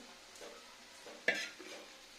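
Spoon stirring semolina halwa with milk in a pan over switched-off heat, soft scraping strokes with one sharper clatter midway, close and quiet.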